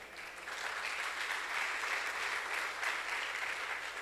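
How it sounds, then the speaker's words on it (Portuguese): A congregation in a church service claps together in a steady, even round of applause that swells quickly and holds throughout, heard at a moderate distance. "dê um aplauso ao Senhor."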